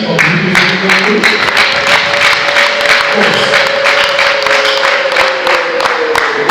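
Wedding guests applaud at a family reception, a steady patter of clapping lasting throughout with a sustained tone and murmuring voices underneath.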